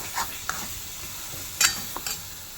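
A spoon stirs masala spices frying in oil for misal, giving a soft, close sizzle broken by a few scraping clinks at uneven intervals.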